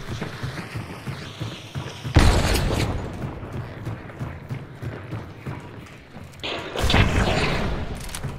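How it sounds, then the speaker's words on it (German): Two heavy, booming bomb blasts go off in Hunt: Showdown, the first sudden and loud with a rumbling tail, the second a few seconds later, over faint background rumble. "Bombe."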